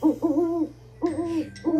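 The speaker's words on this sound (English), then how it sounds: "It's an owl." Soft, tonal hoots of an owl come in three close, repeated calls, each swelling and fading, mid-loud and near, with a faint breathy noise between them.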